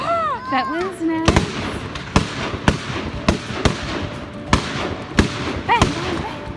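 Fireworks exploding on Bonfire Night, a string of sharp bangs about every half second with whistling rockets at the start, while people talk and exclaim nearby.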